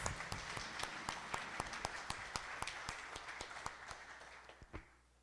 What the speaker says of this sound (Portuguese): Vamos aplaudir a Deus pela vida deles?